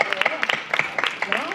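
Brief applause from a studio audience on a televised singing talent show, heard as scattered claps under the voices of people talking and calling out.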